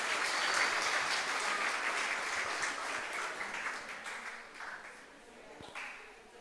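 An audience in a church congress applauds the priest, loud dense clapping at first that gradually thins and fades, with a voice briefly heard toward the end.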